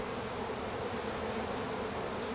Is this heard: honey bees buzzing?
yes